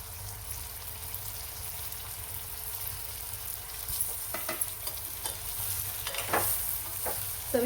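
Stuffed brinjals sauté in hot masala with a steady close sizzle, a spoon scraping and stirring through the pan at intervals, no voices.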